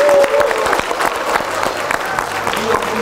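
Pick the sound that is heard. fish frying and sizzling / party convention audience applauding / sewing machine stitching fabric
party convention audience applauding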